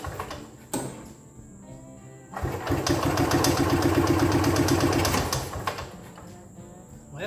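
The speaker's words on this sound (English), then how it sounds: "See that motor struggle?" An EZGO golf cart electric motor starts up and runs at a strained, humming whine for a few seconds before winding down, with clicks at the start and end.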